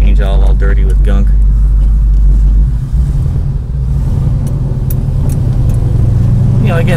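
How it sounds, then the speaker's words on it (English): A classic car, a well-kept driver rather than a show car, crawls slowly through standing water in a street, its engine rumbling low and close; the rumble eases midway into a softer idle and rolling wash, with a brief voice at the start. "Got water in the street right here, so we'll crawl over that."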